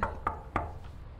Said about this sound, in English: We're gonna knock.